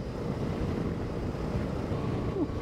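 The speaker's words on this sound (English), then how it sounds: "it's windy out here." Steady wind buffets the microphone on an exposed, treeless gravel hilltop during an adventure motorbike trip, a constant low rumbling roar with no talking.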